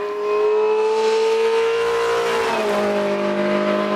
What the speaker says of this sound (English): The 8-port A-Series motor's working hard as Steve heads for the line